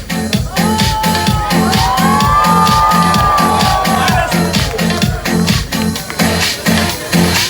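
A large crowd at an evening musical event at Mall of Sialkot cheers, whoops and shouts over steady loud beat-driven music, with a rhythmic pulse throughout and a rising whistle-like tone in the middle.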